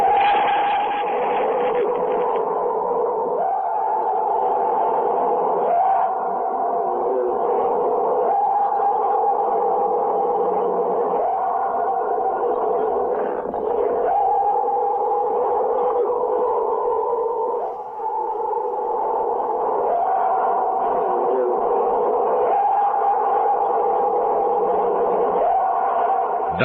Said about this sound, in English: This was obtained at night out in the woods, recorded by some gentlemen who claim this absolutely is the sound of a Bigfoot.